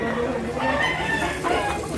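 A two-year-old rooster at a market in Consolacion, Cebu, giving continuous close clucking and crowing calls amid a busy, noisy background.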